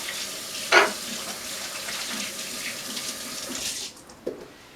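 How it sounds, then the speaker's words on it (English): Running tap water splashing over hands in a kitchen sink, a steady close hiss with a brief louder splash at the start, ending as the tap is shut off. "so I'm going to rinse my hands quickly"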